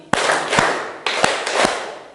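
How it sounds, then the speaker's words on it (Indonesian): Classroom students clapping in unison, two quick sharp claps, a pause, then two more, forming crisp near group hand claps. "Kembali lagi, tepuk 2 kali."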